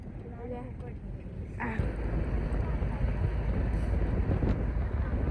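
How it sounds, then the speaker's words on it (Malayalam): Steady cold wind in Kashmir buffets the microphone throughout, a broad low rumble that swells slightly after the first couple of seconds, with a voice speaking over it. "ഈ കാറ്റ് നല്ല കാറ്റട ഗൈസ് നല്ല തണുപ്പാണ്"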